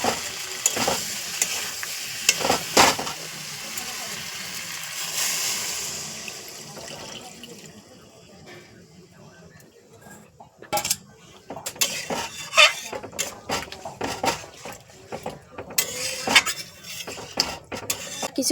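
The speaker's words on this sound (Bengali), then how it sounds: "চিংড়ি মাছটা দিয়ে এইভাবে নাড়াচাড়া করলে মশলাগুলো চিংড়ি মাছের মধ্যে ভালোভাবে মিশে যায়" Prawns with spices are stirred in a pan for a prawn malai curry: a spatula scrapes and clinks against the pan over a soft sizzle, loud at first, then quieter, then returning as sharp scraping strokes near the end.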